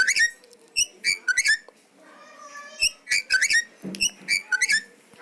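A bulbul singing on a played recording: quick clusters of bright, whistled chirps in irregular bursts separated by short pauses, clear and close.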